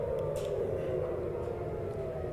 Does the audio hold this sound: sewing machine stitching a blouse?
no